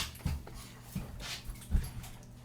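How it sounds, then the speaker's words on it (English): A dog whimpers softly and pants indoors, with a few low whines spaced across the moment and a close, quiet, breathy rhythm in between. "I had to put the dogs out of the room."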